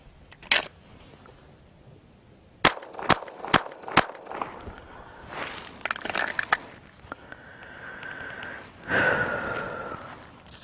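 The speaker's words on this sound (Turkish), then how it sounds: "Bir sonraki daire kılıftan çekip dört atış." Four sharp pistol shots crack out in quick succession after a draw from the holster during target practice, with softer handling clicks and rustles before and after.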